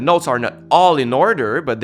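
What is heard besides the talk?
No distinct noise like a dog, phone or traffic.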